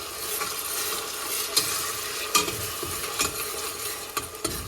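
Green masala frying in a pan for Thiruvananthapuram-style chicken dum biryani, stirred continuously: a constant sizzle with irregular scraping knocks of the spoon against the pan, close and moderately loud.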